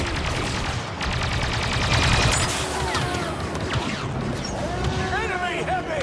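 Blaster fire crackles through a dense Star Wars Battlefront II battle, rapid repeated shots layered over constant combat noise and shouting voices, with sweeping laser-like tones rising and falling near the end.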